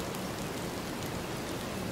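Steady rain falls in the Hunting Simulator 2 video game, a dense, even hiss of drops that holds constant throughout.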